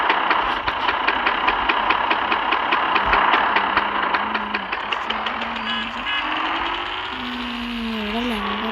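Motorbike engine idling in a video game, a steady close throb of rapid, even pulses that softens toward the end as a faint voice speaks over it.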